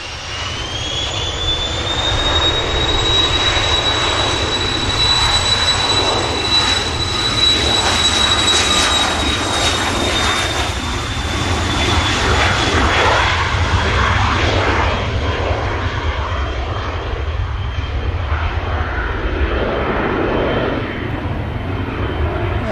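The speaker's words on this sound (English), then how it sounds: "Here goes the NetJets." A 27-year-old NetJets business jet takes off at Manchester Airport, a loud jet roar with a high turbine whine that holds strong and then slowly fades as it climbs away.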